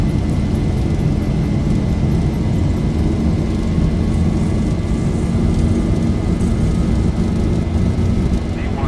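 Jet engines of a Boeing 737-800 run at takeoff power in the X-Plane 11 flight simulator, a loud, steady broadband roar with a low rumble that holds unchanged throughout.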